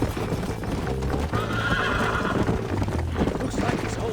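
A galloping horse in Red Dead Redemption, steady rapid hoofbeats with a loud neigh and whinny, all under game music and ambience, with no speech over it.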